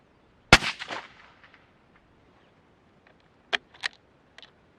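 A rifle shot rings out at a target on an outdoor range, one sharp loud crack with a decaying echo, then a couple of softer clicks and clanks of handling a few seconds later.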